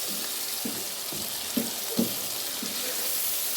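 Masala spices frying in a pan for chicken haleem, a steady sizzling hiss with occasional soft knocks of stirring, close by and with no talking.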